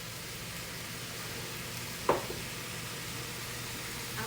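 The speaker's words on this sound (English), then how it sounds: "I'm going to melt my stick of butter." A stick of butter melting in a pan gives a steady, soft sizzle, with one brief clack midway and no talking.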